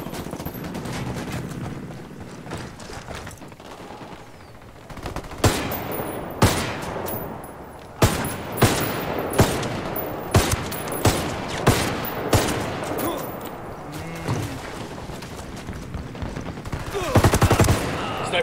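Bursts of gunfire from the video game Ghost Recon Wildlands, with sharp, loud shots fired in rapid clusters and repeated volleys over a steady background rumble, continuing close and heavy throughout.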